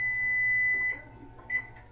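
A kitchen oven timer beeps while white bread bakes: a sustained high electronic tone holds for nearly a second, then a second short beep follows, close and moderately loud over a low steady hum, with no talking.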